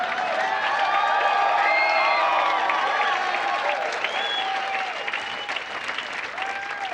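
A packed comedy club crowd applauds loudly and cheers, with whoops and shouted voices riding over a steady wash of clapping that holds strong for the full stretch, sounding close and dense.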